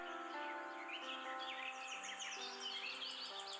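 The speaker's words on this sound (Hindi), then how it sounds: "चिड़ियों की आवाज सुनकर रामू को बहुत आनंद आता।" Small birds chirp and twitter steadily in a village setting, a dense overlapping chorus of high calls with sustained tonal notes underneath, continuous and moderately close with no talking.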